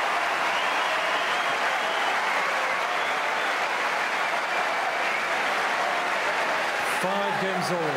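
Wimbledon tennis crowd applauding loudly and steadily at a 2008 men's fourth-round match, a dense wash of clapping that runs throughout, with a voice rising over it near the end.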